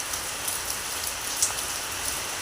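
Steady rain falls on a wet morning near a house, a continuous hiss with occasional closer drips, moderately loud and alone without voices.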